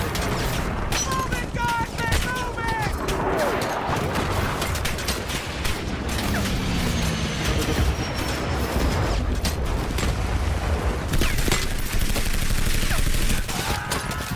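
Rapid bursts of machine gun fire from the Warhammer 40K 'Space MG42' ring out loud and dense, nearly continuous for the whole stretch and mixed with other clattering battle noise.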